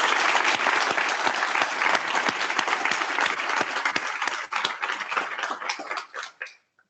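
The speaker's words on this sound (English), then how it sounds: "Can I get a round of applause for 50 years?" Applause from the audience at a physician assistant white coat ceremony marking the program's 50th anniversary, dense, sustained clapping that holds steady for about six seconds before thinning out and stopping.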